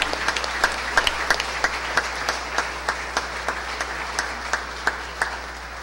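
Church congregation applauding their pastor during a service, a steady wash of many hands with sharper individual claps standing out, sustained and moderately loud throughout.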